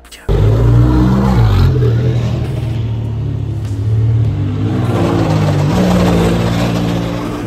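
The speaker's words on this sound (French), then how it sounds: "les voitures ont ensuite pris la piste, un tour de démo sur un circuit mythique" Alpine and Ligier hydrogen race cars run a demo lap on the Le Mans circuit, a loud, close rumbling engine roar with rising and falling revs as they pass, with no talk over it.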